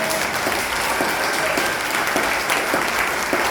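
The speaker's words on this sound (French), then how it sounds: "Applaudissons le Seigneur." Congregation applauding steadily throughout a church service, a dense, continuous wash of many hands clapping with no break and no talk over it.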